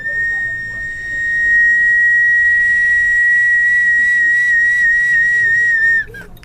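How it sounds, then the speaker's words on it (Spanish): A pre-Columbian Andean ceramic whistling vessel, sounded by water moving inside it, gives a steady, clear high whistle that holds for about six seconds before cutting off, loud and close, with no talking. "no es propiamente la acción humana con el soplido que produce este silbido"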